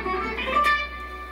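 A rounded guitar pick strikes the strings at a sharp angle in a classical picking position, giving a brief, slightly duller phrase of notes heard up close with no talking.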